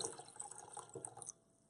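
Water drained from soaking tomatoes is poured into a white bowl, giving a quiet, brief trickling and splashing that runs about a second before stopping abruptly.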